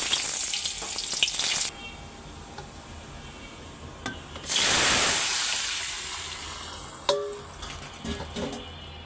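Chopped garlic, onion, cumin, radhuni and black cumin hit hot oil as tempering for lentil dal, a sudden loud sizzle that slowly fades, preceded by a shorter hiss and a few clinks.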